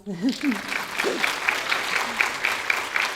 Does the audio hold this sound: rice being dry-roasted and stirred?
no